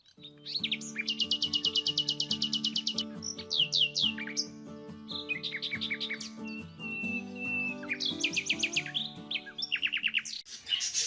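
Small birds in a coop chirp and trill loudly and close, with rapid repeated twittering bursts layered over steadier tonal whistles throughout, and nothing else heard.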